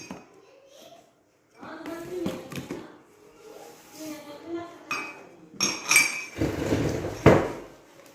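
Cups and glassware handled as gifts, with clear clinks and knocks of ceramic and glass rising toward the end, mixed with nearby voices, including a child's, talking between the sounds.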